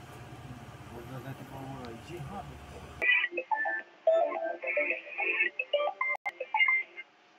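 Phone dialing tones after a number is entered, a string of short electronic beeps at an even pace, clear and close, following a stretch of talking.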